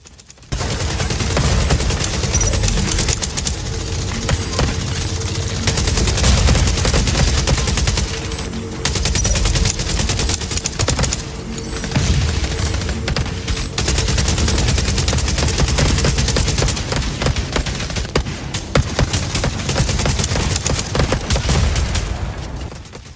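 Sustained loud automatic gunfire in the shooter game The Division Resurgence, dense rapid bursts rattling almost continuously with brief gaps, close and dominant with no talk.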